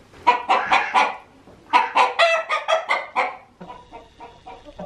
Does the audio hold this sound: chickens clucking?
yes